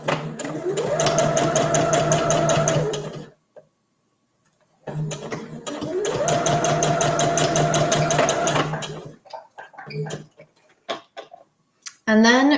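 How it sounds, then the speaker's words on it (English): A sewing machine stitches a seam on a fabric gift bag in two long steady runs of rapid mechanical ticking, broken by pauses with light handling noises between bursts. "we're just going to stitch directly over this line"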